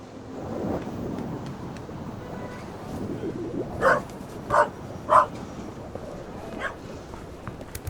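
Three sharp dog barks in quick succession, then a fainter fourth, over a rumbling backdrop like rain or distant thunder, in the video game The Raven Remastered.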